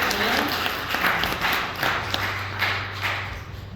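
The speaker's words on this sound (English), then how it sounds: "So, round of applause." An esports crowd at the LCS Summer Split playoffs in the Prudential Center applauds steadily throughout, a dense wash of clapping at moderate volume with no voices.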